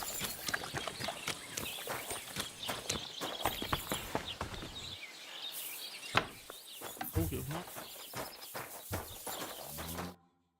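A horse shuffles and clops on hard ground at a stable in Kingdom Come: Deliverance II, with steady hoof knocks, rustling and birdsong in the background while a voice speaks over it.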